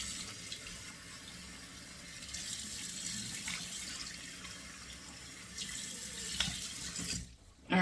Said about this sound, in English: Letting the cold water run in the sink here, nice and cold.